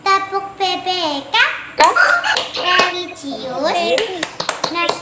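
Children chanting the rhythmic PPK clap in an Indonesian classroom, sung call-style voices punctuated by sharp unison hand claps at steady intervals, close and lively.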